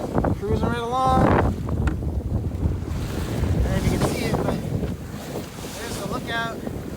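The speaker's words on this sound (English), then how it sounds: "Wind's starting to pick up again, and we're getting some power." Wind buffeting the microphone aboard a sailboat heading for Trinidad, California, with water rushing past the hull and a voice talking over it.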